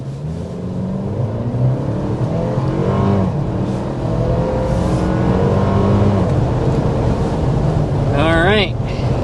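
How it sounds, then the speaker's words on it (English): A 2025 Toyota 4Runner Platinum accelerating hard, with a steady engine roar and rising tone heard from inside the cabin, mixed with road and wind noise throughout, plus a brief sharp warbling sound near the end. "we're going to go ahead and start with a hard acceleration"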